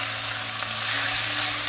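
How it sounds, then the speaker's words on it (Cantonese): Marinated meat slices hitting hot oil with fried garlic in a wok, a loud steady sizzle and crackle throughout, close and uninterrupted, no voices. "跟住咧就放咗啲醃好咗嘅肉片落去"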